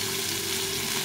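A rohu fish tail fries in spiced oil over low heat, a continuous even sizzle with a faint steady hum beneath, no voices.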